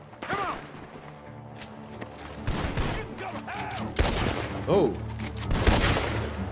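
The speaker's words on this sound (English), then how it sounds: "The gunshots are coming from that barn." Gunshots ring out from a barn in Red Dead Redemption 2, several sharp loud bangs scattered irregularly over a few seconds amid creaks and mechanical sounds, with a voice reacting briefly.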